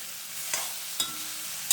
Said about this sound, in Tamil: இந்த பச்சை வாடை வராமல் இருக்கிறதுக்கு நல்லா வறுத்துணுங்க